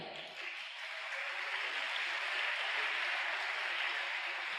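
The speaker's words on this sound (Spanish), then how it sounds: "Un aplauso para él." An audience applauds a speaker at a talk on water, sanitation and hygiene indicators in Ecuador, with dense, steady clapping from a crowd that swells slightly after the start and holds level.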